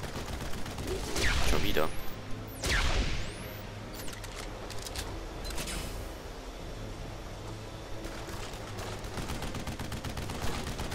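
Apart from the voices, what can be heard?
gunfire shooting rocks in the video game Duke Nukem Forever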